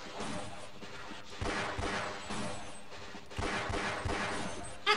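Gunfire in the shooter game Half-Life: Blue Shift, several bursts of rapid shots in a tunnel, with brief gaps between volleys and a sharp hit at the very end.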